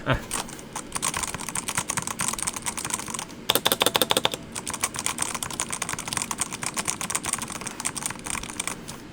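Rapid clicky keystrokes on a RAZEAK K1 full-RGB mechanical keyboard, steady bursts with a brief flurry of faster presses midway, close up and alone.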